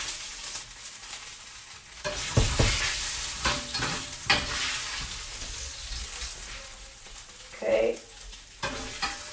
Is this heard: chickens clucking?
no